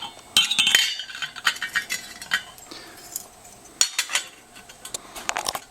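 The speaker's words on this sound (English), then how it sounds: "Now place the ashtray on the stem" A metal hookah ashtray is set onto the stem: a series of light metallic clinks, taps and rattles close by, arriving in irregular bursts with short quiet gaps between them.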